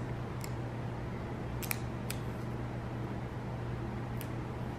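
Scissors snip through washi tape for a planner sticker in a handful of quick, faint, crisp cuts over a steady low room hum, with no talking.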